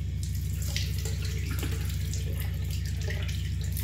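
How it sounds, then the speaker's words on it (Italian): Water from a tap runs steadily into a small bowl of shaving soap, a continuous close splashing stream over a low steady hum, with no talk. "E lo preparo già con l'acqua sulla ciotolina."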